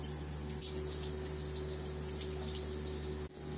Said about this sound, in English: I'm just sitting in the shower